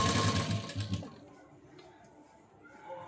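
A sewing machine stitches the end of a cross strip in one short, close whirring run that stops abruptly, leaving quiet room tone behind.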